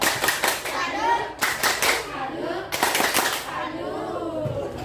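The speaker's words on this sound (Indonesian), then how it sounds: "Kita kasih tepuk salut dulu buat teman yang di depannya" Primary school children clap a rhythmic salute cheer in class, sharp group claps in patterned bursts mixed with kids' chanting voices, close and lively.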